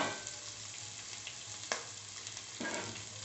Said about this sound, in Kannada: ಕಾಯಿ ತುರಿ ಹಾಕ್ಕೊಂಡು ಫ್ರೈ ಮಾಡ್ಕೊಳ್ಳಿ.